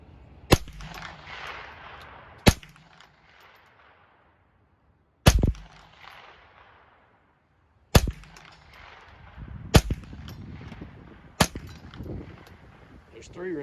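Sharp rifle shots from a Rock Island Armory TM22 .22 rifle, several loud cracks spaced a couple of seconds apart, each ringing out briefly over a quiet outdoor background.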